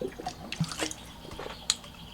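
Water spills and drips in a few scattered, light splashes and small patters, close by and quiet, ending with a sharper splash.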